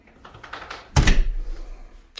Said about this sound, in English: I shut this door because the stairwell is freezing